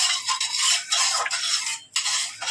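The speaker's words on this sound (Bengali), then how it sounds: "দিদিভাই এখন একটু চাউমিন বানাচ্ছে" Chow mein being stirred and tossed in a pan with a utensil, giving a steady, close scraping and rustling that pauses briefly and resumes.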